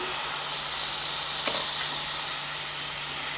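Mutton keema frying in a pan with a bunch of fenugreek leaves added, giving a steady, loud, close hiss and sizzle throughout with no pauses.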